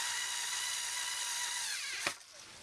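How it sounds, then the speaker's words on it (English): A cordless power screwdriver drives small screws into a mini cocktail arcade cabinet, giving a steady high motor whine that ends in a brief sharp burst before cutting off, close and alone with no talk. "You definitely want a charged power screwdriver here, because I use it a lot"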